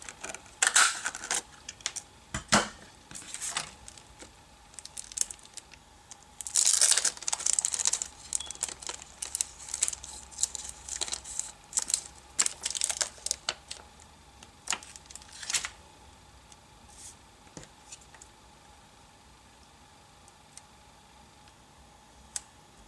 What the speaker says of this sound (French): Donc je reprends ma chute de papier à pois rouge